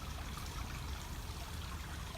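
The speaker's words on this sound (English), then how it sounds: "I'm going to fill it up with water" Water steadily poured into the shallow bowl of a homemade bird bath fountain, a continuous close trickling splash with no talk.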